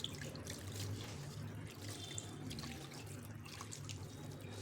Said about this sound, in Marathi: तर ह्यावरती आपल्याला अजून पाणी घालायचे.